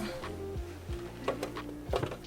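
A sewing machine stitches the side seams of a thrifted shirt being remade. Its motor whirs nearby and winds down in short runs, with light mechanical clicks between them.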